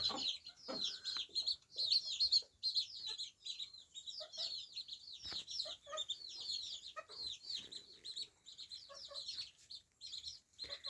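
A hen clucks beside her single chick in a farm coop, with repeated soft clucks and high, thin chick peeps scattered throughout, close and fairly clear with no speech.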